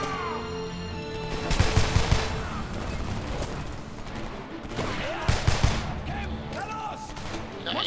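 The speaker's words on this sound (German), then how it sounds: "Schüsse auf meine Stellung!" Rapid gunfire in the Homefront shooter game, dense bursts of automatic shots and blasts rattling throughout, with louder volleys near the start and middle, while a voice talks over the battle.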